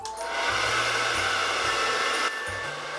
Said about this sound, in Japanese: 必要であればドライヤーを使って乾かしていきます。